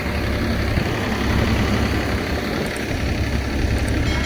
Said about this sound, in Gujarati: આ છે મેસુડી ટ્રેક્ટર